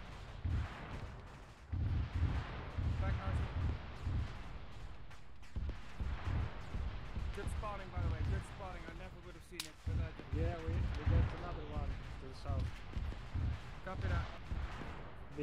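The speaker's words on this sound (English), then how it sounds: "Start getting shots from south." Gunfire in Arma 3 rings out as scattered shots and bursts from a distance, mostly under the ongoing talk of several players.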